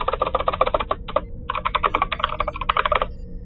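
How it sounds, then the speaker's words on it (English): Rapid typing on a computer keyboard with tactile keys, a dense close run of clacking keystrokes with one brief pause midway, loud and alone. "you can hear me typing because my keys go clack, clack, clack"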